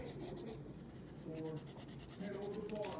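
A pencil drawing on paper is erased with soft, steady rubbing and scratching strokes close by, under a person talking.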